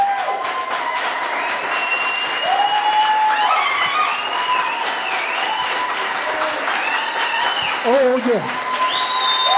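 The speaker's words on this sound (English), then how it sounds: "I think we should stand and give our brother Bobby a standing ovation." Standing ovation at a memorial service, sustained applause and clapping from a crowd filling the whole stretch at steady loudness, with a few voices and brief cheers over it.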